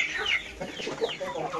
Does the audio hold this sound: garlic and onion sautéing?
no